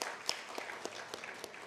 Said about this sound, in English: So maybe a applause for him for doing this fantastic things